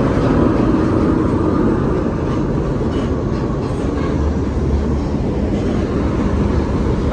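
A bus rumbles past on a congested road outside Jati bus terminal in Kudus, Indonesia, a steady loud roar of engine and tyre noise throughout.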